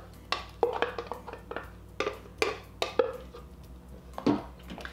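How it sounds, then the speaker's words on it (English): A spoon scrapes and clinks repeatedly against a pot while a creamy white bean and kale soup is stirred, giving a run of close, uneven metallic knocks with no talking. "Give it a good stir."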